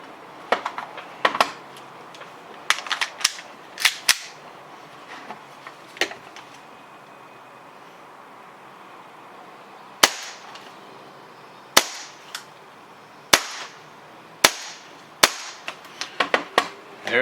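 Airsoft gun shots tested with various hop-up buckings, a series of sharp dry snaps spaced irregularly over several seconds, with a quiet pause between groups and no talk.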